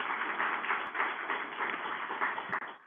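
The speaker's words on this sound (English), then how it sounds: "let's give her another round of applause" Audience applause for a conference chair at a NASA air-quality science team showcase, a steady broadband wash of many hands clapping throughout, fairly loud and continuous with no talk over it.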